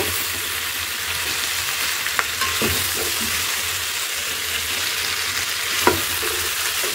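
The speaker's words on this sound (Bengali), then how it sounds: "এবার এটাকে ভালো করে নাড়িয়ে নেব, আস্তে আস্তে করে এটা নাড়িয়ে নেব" Steady sizzling of mixed vegetables (potato, carrot, papaya, radish, onion) frying in a pan, with occasional scraping and knocking from a utensil stirring, close by and without talk.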